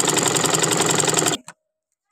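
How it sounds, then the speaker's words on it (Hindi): A sewing machine rapidly stitches buckram onto trousers in a loud, steady, close rattling run that stops abruptly, followed by a brief click and then silence. "इसकी सिलाई लगाई है हमने।"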